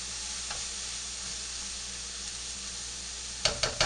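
Mushrooms cook in a pan with a steady, even sizzle that runs throughout, and a few brief clicks near the end.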